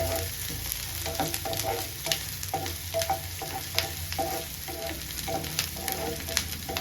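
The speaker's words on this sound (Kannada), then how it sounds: "ನೋಡ್ಬೋದು ಈರುಳ್ಳಿ ಕೂಡ ಚೆನ್ನಾಗಿ ಫ್ರೈ ಆಗಿದೆ." Onions sizzling in hot oil in a pan while making a traditional ivy gourd stir-fry, a steady close frying crackle with light clinks of a stirring spoon throughout.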